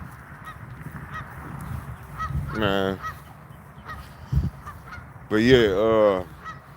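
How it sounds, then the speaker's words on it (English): Geese honk loudly nearby in two bursts, a short call and then a longer, more raucous round, while someone talks quietly between them. "Y'all hear them geese,"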